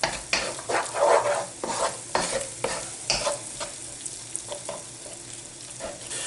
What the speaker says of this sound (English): it is important that you cook these spices through